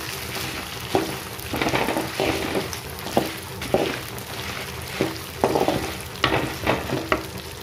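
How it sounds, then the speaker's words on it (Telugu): Lentils and dried red chilies fry in oil in a kadai, giving a steady sizzle broken by repeated scraping stir strokes, several sharp clatters landing at irregular intervals, close and with no voices. "కళాయిలో నూనె వేసి ఇలా పప్పు వేయించుకోవాలి. పప్పు వేగుతుంది కదా, ఇదే పప్పులో ఇలా మిర్చి కూడా వేసి వేసుకోవాలి"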